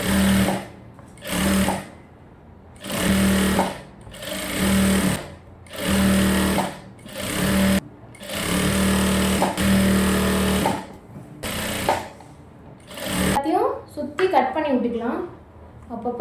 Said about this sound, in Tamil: இப்போ உள் பக்கத்தோடி சுற்றி தையல் போட போகிறோம்